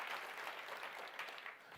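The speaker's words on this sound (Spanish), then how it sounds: "un aplauso al Señor" Worshippers in a church during a missionary convention clap together in a short, even burst of applause, fairly soft and sustained with no voices over it.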